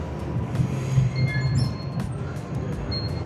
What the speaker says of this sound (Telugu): ఫైనల్గా వచ్చింది గైస్ మన ట్రైన్.